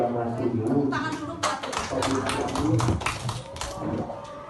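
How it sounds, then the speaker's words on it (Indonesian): Students in a junior high school classroom at SMPN 1 Sukalarang clap in a brief, uneven burst over continuous nearby talking and room noise. "tepuk tangan dulu buat"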